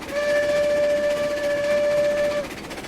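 A steam locomotive's whistle in the video game RailRoads Online sounds one long, steady blast lasting over two seconds, loud and close above a rough rumbling background, then cuts off.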